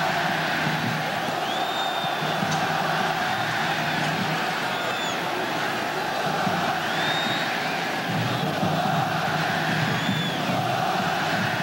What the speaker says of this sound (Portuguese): E a torcida do Vasco continua gritando,